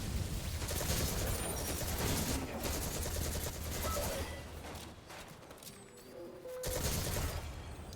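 Rapid automatic gunfire in a shooter video game, sustained loud bursts crackling close by with short gaps, dipping briefly before another heavy volley near the end.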